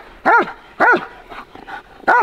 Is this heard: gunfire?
no